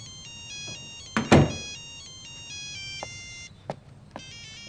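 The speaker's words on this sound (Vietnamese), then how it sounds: "Sơn, có điện thoại" A phone ringtone plays as a melodic chiming pattern of bright repeated tones, interrupted by a loud thump midway and a few short knocks, then resuming near the end; no one speaks.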